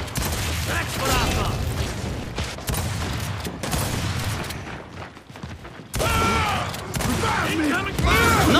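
Rapid bursts of gunfire and explosions from a Gears 5 free-for-all match, loud and dense with brief lulls, while a voice talks over the battle.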